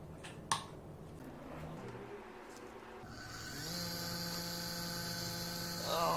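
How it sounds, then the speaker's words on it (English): A 58 watt CNC DC motor runs from a large power supply: after a low background hum it spins up to a steady high-pitched whine with a layered tone, rising slightly at the end. "Let's test this CNC motor, 58 watts."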